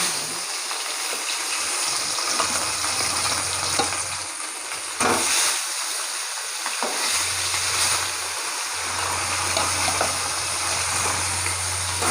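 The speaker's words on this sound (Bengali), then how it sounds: "এখানে আমি কড়াই তেল দিয়ে দিয়েছি, মাছটা ভেজে নেবো" Rohu fish pieces fry in hot oil in a wok, a steady loud sizzle running throughout with occasional bursts and crackles, no one talking.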